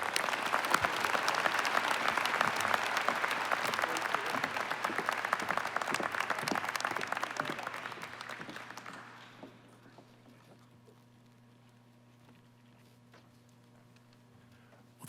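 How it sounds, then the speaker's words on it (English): A large audience at a university investiture applauds the president in a dense, sustained burst that rolls on for several seconds, then fades out to a quiet room hum. "let's give him a round of applause for our amazing president."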